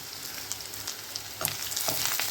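Carrot, beetroot, capsicum and onion pieces fry in a pan with a steady low sizzle, while a spatula stirs them in a few soft scraping strokes; there is no talk.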